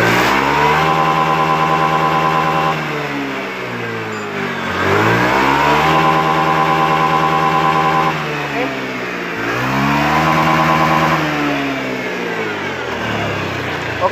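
A Honda Beat ESP scooter engine, fuel-injected and suffering a stuttering, bogging fault, revs hard at full throttle three times, each loud rising roar falling back between pulls, with no one talking.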